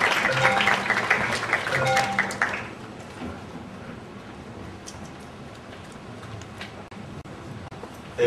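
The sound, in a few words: applause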